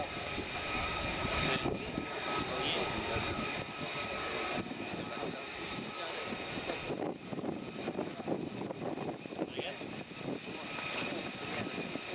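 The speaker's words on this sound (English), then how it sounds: "into land the Lockheed Martin F-35B Lightning II from VMF 18501 of the US Marine Corps" A Lockheed Martin F-35B Lightning II of the US Marine Corps comes in to land at an airshow, its jet roar loud and continuous throughout, with a commentator's voice over it.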